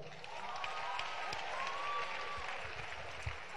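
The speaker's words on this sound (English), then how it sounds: "let's give a God bless you applause to Pastor Samuel Olutoko" A youth church congregation applauds a pastor. The clapping is a steady, fairly faint wash of many hands, heard from a distance with a roomy crowd murmur underneath, lasting several seconds.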